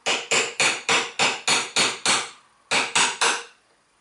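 A hammer strikes a chisel to free the ring holding the boot on a front brake caliper of a 1987 Toyota Corolla AE86, eight sharp metallic blows in a steady rhythm, a pause, then three more, loud and close.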